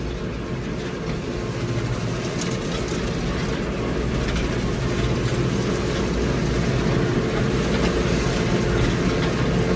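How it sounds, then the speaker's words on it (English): A hay rake working a field, gathering three mower swaths into a single windrow, gives a steady loud mechanical rumble and clatter of tractor and rake running continuously close by, with no talking. "the rake is doing exactly what I wanted it to do. It's taking 3 windrows and combining them"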